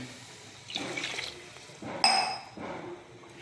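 Water is poured from a glass into measured rice for tomato rice, giving two short splashing pours with a clink of glass in between, heard close and without talk.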